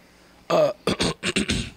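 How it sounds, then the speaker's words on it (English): A person clears their throat in several short, rough bursts, close and fairly loud, with brief pauses between them. "let me clear my throat"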